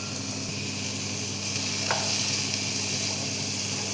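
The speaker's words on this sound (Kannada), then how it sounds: "ಎಣ್ಣೆ ಕಾದಿದೆ. ಇದಕ್ಕೆ ಸ್ವಲ್ಪ ಮೂಲಂಗಿ ಹಾಕ್ತಾಯಿದ್ದೀನಿ." Sliced radish sizzles in hot oil in a pan, a steady close crackling hiss that holds evenly from start to finish.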